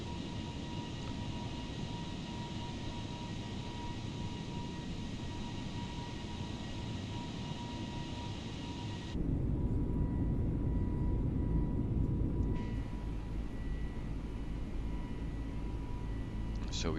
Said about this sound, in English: The rattle of the engines, very nice.